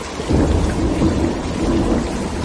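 Heavy rain and thunder over an empty night road, a dense roar of downpour with a deep rumble swelling in early and staying steady throughout, with no voices.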